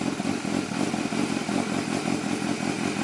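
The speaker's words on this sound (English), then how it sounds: "Okay, the engine on." A 600cc motorcycle engine idles loudly and steadily nearby after starting, a throaty, continuous rumble with a dense mechanical clatter and no talk over it.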